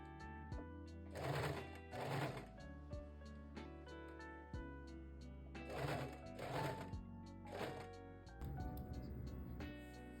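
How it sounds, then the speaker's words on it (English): A sewing machine stitches corset top pieces together in several short whirring runs separated by pauses and small mechanical clicks, fairly close and quiet. "So after you sew them together, you can slip the edge here so that it will lay flat."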